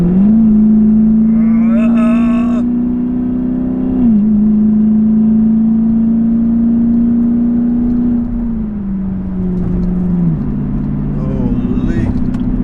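A 2020 mid-engine Corvette with a 495 hp engine pulls onto a highway, its loud, steady engine drone holding a sustained tone with brief dips as gears shift and the pitch climbs again, heard close from inside the cabin.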